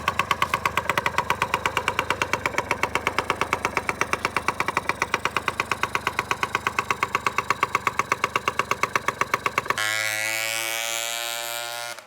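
A small Yamaha Passol scooter engine runs steadily at a fast, even idle with a buzzing rhythm, close by, then cuts to a higher whining tone near the end.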